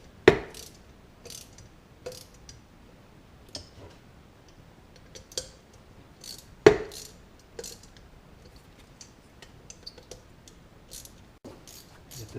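Bolts being tightened on a PM727 milling machine motor bearing housing as the bearing seats, giving sparse, quiet metallic clicks and ticks with a few sharper pops scattered over a faint background.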